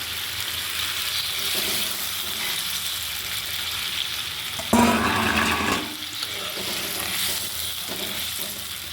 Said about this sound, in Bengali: এবার ঝোলটা দিয়ে দিলাম, কষানো হয়ে গেছে, ঝোল দিলাম।